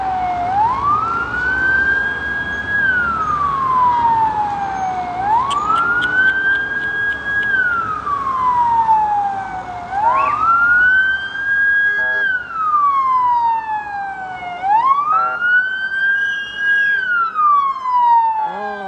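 Ambulance and police sirens wail in repeated slow rising and falling sweeps, loud and close, at the scene of a shooting in Diyarbakır.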